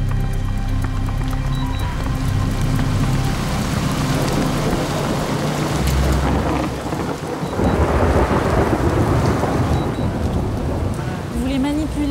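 A heavy gust of rain pours down with rumbling thunder, a loud, dense continuous wash that swells midway, with a faint voice in the background.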